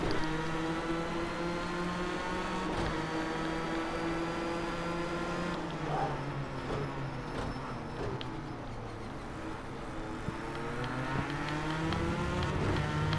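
A car engine in a racing video game drones with a steady, tonal hum that drops in pitch partway through and holds on without any talking.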